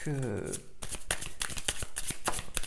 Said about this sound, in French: Je vais aller tirer aussi quelques cartes pour voir un petit peu ce